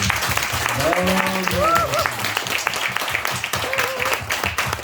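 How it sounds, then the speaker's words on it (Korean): Church congregation at a Thanksgiving service clapping for one another, a continuous patter of applause with voices rising over it in the first half. "우리 서로 잘했다고 격려의 박수 하겠습니다."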